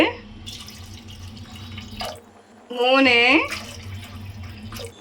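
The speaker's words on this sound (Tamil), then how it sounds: "2 கிளாஸ் வந்து பார்த்தீங்கன்னா 1 கிளாஸ்க்கு 2 கிளாஸ் தண்ணி ஊற்றிக்கலாங்க" Water poured into a pot of rice for a tomato rice dish, heard as a short, close gurgling pour in the middle, with someone talking before and after it.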